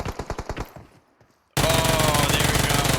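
Uzi gunfire in PUBG Mobile, a rapid burst of sharp close shots that fades into near silence, then a sudden loud, dense wall of sustained firing and noise.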